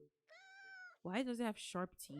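Pepper, a pet cat in a spooky Halloween video game, gives one drawn-out meow, and then a voice starts talking right after it.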